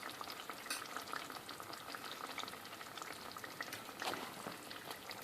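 Fish curry sizzles and bubbles steadily in a pan, a soft continuous frying hiss with faint stirring, no voices present.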